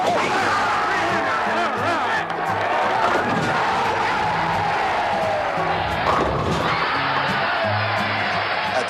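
A large crowd at a professional bowling tournament of the 1960s and 70s roars and cheers in a steady, dense wall of noise that lasts throughout, with shouts and whoops rising out of it.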